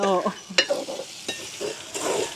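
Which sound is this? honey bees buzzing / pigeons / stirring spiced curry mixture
stirring spiced curry mixture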